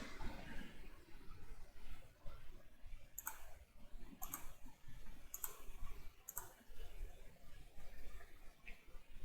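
Four faint, crisp computer mouse clicks at roughly one-second intervals, set against a low, noisy background with no clear speech.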